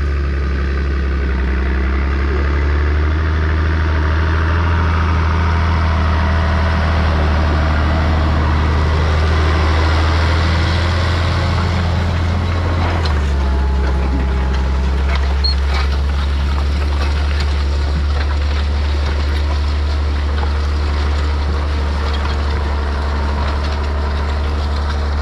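A tractor engine runs steadily while ploughing a field, a loud, continuous low drone that holds for the whole stretch with a slight shift in tone partway through and no talk over it.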